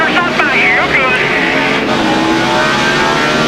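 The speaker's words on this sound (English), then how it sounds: "Sounded like he hit the gas, floored the throttle" A NASCAR stock car at the 2004 Subway 500 floored to full throttle, its engine roaring loud and steady under a race commentator's voice.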